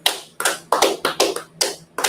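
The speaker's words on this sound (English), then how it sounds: "Clap it up." A class claps hands in unison to a steady beat, six loud sharp bursts in about two seconds with no talking in between.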